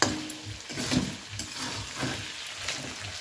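Prawn curry stirred and sautéed in a pan, with soft sizzling and intermittent scraping strokes at moderate level, heard close with no talk.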